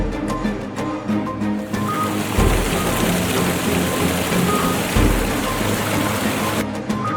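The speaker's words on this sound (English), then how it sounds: "The storm outside drowning out any noise." Storm with heavy rain outside a prison: dense, continuous rain hiss with low rumbling swells, steady and fairly loud, with brief tonal musical touches in the background.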